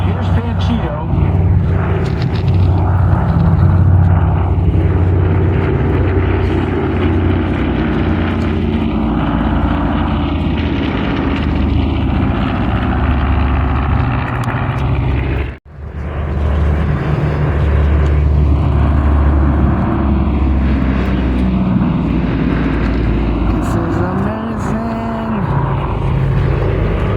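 Panchito, a propeller-driven warbird flying past at a World War II airshow, gives a loud droning engine roar that rises and falls over nearly half a minute, with a brief dip midway and a commentator talking throughout.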